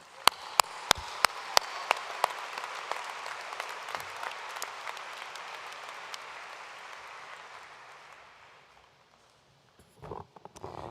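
Applause for 2022 graduates at the University of Evansville commencement opens with a few sharp, separate claps that swell into broad crowd clapping, which fades out near the end before some faint noises.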